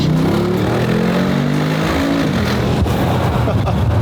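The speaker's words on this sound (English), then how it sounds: "You can hear the downshift pops there." A Hummer H1 truck drives loudly from inside the cab with windows down, the engine note dropping through a downshift followed by crackling exhaust pops, while a voice talks underneath.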